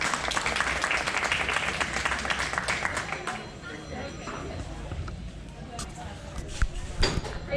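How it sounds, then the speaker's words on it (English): Crowd applause for kids at a sheep show, steady dense clapping that fades after a few seconds, leaving scattered claps and arena noise with a voice speaking over it. "Let's give a round of applause for these kids."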